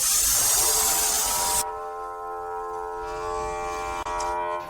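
A SYLSTAR battery-powered pressure foam sprayer gives a steady mechanical hiss of spraying, loud for the first second and a half, then cuts to a lower motor hum with a faint background whine.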